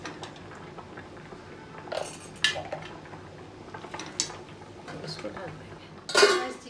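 A lid is set over a pan of capsicum chicken, sharp metallic clatters and clinks of pan and lid against a low cooking hiss, with a voice talking through it.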